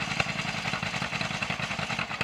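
An old John Deere B tractor with a straight pipe exhaust, mowing hay, its engine running steadily close by with a rapid, even putt-putt clatter and no talk.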